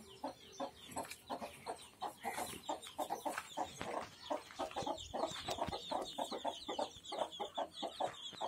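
Hens cluck and chicks peep nonstop close by, a busy overlapping chorus of short calls with no talking.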